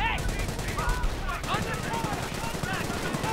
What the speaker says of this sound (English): And then artillery getting called in again.